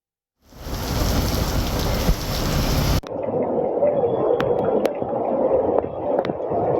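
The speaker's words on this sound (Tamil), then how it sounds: "எவ்வளவு நேரமாக மழையானது பெய்து கொண்டிருக்கிறது?" Heavy rain pours steadily onto a flooded national highway, a dense continuous roar that starts abruptly and carries on with brief sharp crackles and splashes over the downpour.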